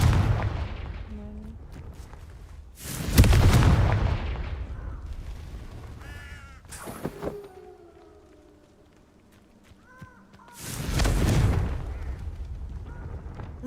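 Confringo blasting spells cast in the Hogwarts Legacy video game: two loud, booming explosions several seconds apart, with fainter spell effects and tonal game sounds between them and no talk over them.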